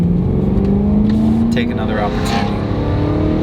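A BMW E92 M3 engine revs up with a raspy exhaust note, loud and close, its pitch rising steadily while someone talks over it.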